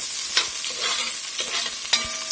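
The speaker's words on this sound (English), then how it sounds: "it says to that add a chopped onion. We're going to get that in now." Chopped onion frying in a pot for 1910-style chili, a close, steady sizzle broken by several sharp scrapes and clacks of a utensil stirring against the pot, with no voices.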